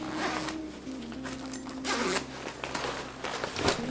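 A zipper on a Knack medium expandable 30L backpack is pulled in several quick close strokes, each a bright rasping zip with short pauses between.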